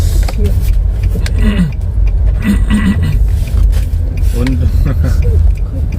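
A Nissan Livina accelerates on a toll road and shifts into second gear. A loud, steady engine and road rumble fills the cabin, with brief voices heard over it.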